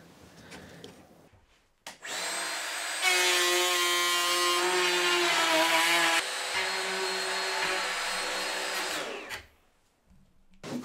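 A router guided by a jig cuts hinge mortises into a wooden workshop door, a steady high whine held for about seven seconds that rises and dips slightly as it bites, starting and stopping abruptly with quiet gaps on either side.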